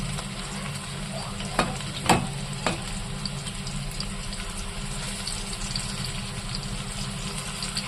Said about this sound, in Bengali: সেকেন্ড পিঠটা ভালো করে ভেজে তারপরে এটাকে নামাবো